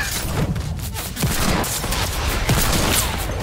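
Gunfire in Fortnite crackles in dense, rapid bursts with a few heavier booms across the short stretch, loud and close, with no talking in the clip.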